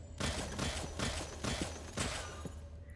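Gunfire from a gun in the VR game Of Lies and Rain, a series of loud, booming shots in a rough rhythm of about four or five bursts over a low hum, fading at the end.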